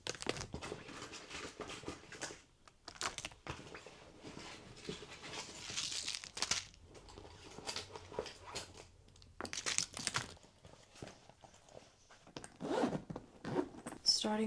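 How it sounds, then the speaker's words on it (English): A handbag being packed with a Kindle, journals and a comb: a zipper zips several times between crinkling, rustling and the soft knocks of items being set inside, all close by, with a voice talking quietly over parts of it. "we're gonna do a little pack my bag with me now, quickly"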